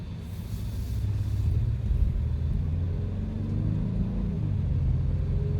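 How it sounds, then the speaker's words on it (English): A 2019 Honda Passport SUV accelerating on the road, its engine a low, steady rumble heard from inside the cabin, building slowly without a sharp rev. "I'm really pushing into the pedal and it doesn't get going for quite a while"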